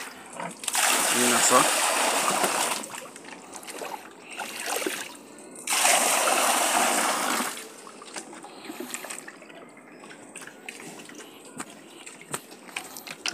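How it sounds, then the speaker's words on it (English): Water from a hose pouring into a pig pen, a broad splashing rush in two loud bursts with quieter trickling between, while someone talks over it. "Now I'm gonna just give them the hose, put the hose in it"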